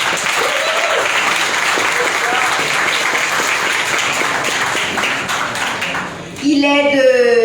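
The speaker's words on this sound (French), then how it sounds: "On l'applaudit." Sustained audience applause at a ceremony honouring young role models, greeting a 15-year-old honoree; dense steady clapping fills the room for several seconds, and a voice cuts in at the end.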